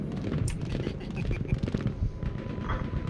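Gunfire in Battlefield V on the Narvik map during a Breakthrough match: rapid crackling shots and bursts, some near and sharp, others farther off, layered over a busy battle din.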